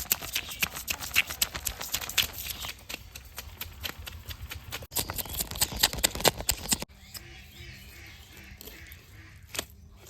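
A live katla fish being chopped with a knife: rapid, loud, irregular thuds and clacks of the blade striking for about seven seconds, then a quieter stretch with a few faint knocks.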